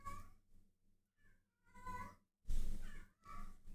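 A cat meows several times in short, rising calls with brief pauses between, close and moderately loud, with no talking.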